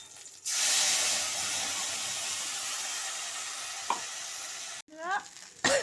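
Spice paste hits hot rapeseed oil in a pan for a katla fish curry with a sudden loud sizzle that settles into a steady, close hiss for several seconds. The hiss cuts out abruptly, then a brief voice and clatter follow.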